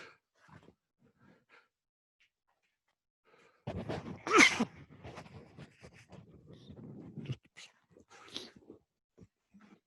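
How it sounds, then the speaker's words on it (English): A single sudden sneeze bursts out loudly in the middle of quiet, with soft breathing and faint murmurs before and after. "Just about to sneeze."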